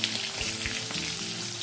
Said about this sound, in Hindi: अब मैं इसमें अपने परवल डाल देती हूँ